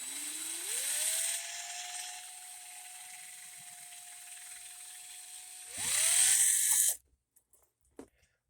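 A drill drives a hone through a machined bore, spinning up with a rising whine, holding a steady tone for several seconds, then surging into a loud grinding roar before abruptly stopping, followed by a few faint clicks.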